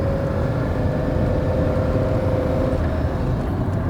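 A Lamborghini Countach engine running steadily while warming up after a sympathetic restoration, a continuous loud rumble with a faint steady whine on top, no talking.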